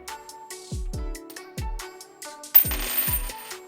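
A silver 2020-W quarter is dropped onto a hard surface several times, each drop giving a bright ringing clink and short bounce, close and clear.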